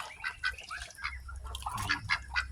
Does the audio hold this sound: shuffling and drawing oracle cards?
no